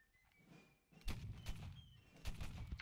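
Video-game musket volley: a sharp crackling burst of many shots, then another ragged volley a second later, fairly faint and distant, with no talking over it.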